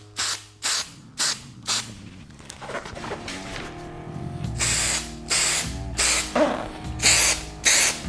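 Several short, close hissing blasts of aerosol spray adhesive hit new seat foam for a 1989 Suzuki RM250, with a rattle and shuffle in between as the can is handled before the final bursts.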